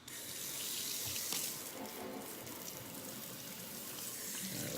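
Steady stream of water running from a hose while a dog is wetted down for a bath during a grooming session, a continuous close hiss with slight shifts in tone and no talking.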